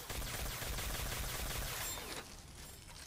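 Rapid bursts of gunfire in a Call of Duty Zombies custom map, a dense continuous volley that cuts off near the end, leaving quieter game ambience.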